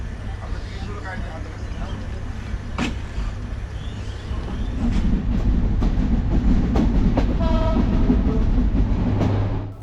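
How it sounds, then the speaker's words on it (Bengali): The Banalata Express, a passenger train on the Rajshahi to Dhaka line, starts moving again after a brief station stop. A low rumble builds and grows steadily louder around halfway through, with a person talking over the running train. "এখানে শুধুমাত্র এক মিনিট দাঁড়িয়েই আমাদের ট্রেনটি আবারও চলতে শুরু করলো"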